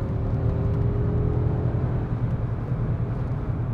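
Low, steady engine roar of a nearly 500-horsepower Mercedes S580 heard from inside the cabin as it accelerates hard and downshifts to pass, a continuous muffled rumble with no talking.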